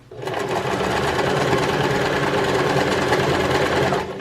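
A sewing machine stitches a zipper pillow cover, running continuously at an even, rapid pace for about four seconds, loud and close with no voices.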